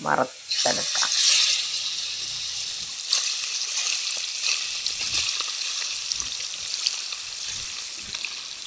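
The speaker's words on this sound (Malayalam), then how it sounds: "ഒരു 5 മിനിറ്റ് വെച്ച് കഴിഞ്ഞിട്ട് നമുക്കിത് വറുത്തെടുക്കാം" Continuous crackling sizzle of sardines frying in hot oil, with occasional clinks and stirring, under a voice speaking.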